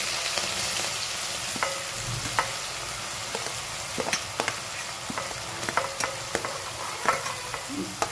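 Green onion sizzles in hot oil with cumin and asafoetida in a home kitchen pan, a steady soft frying hiss broken by repeated clinks and scrapes of a spoon stirring.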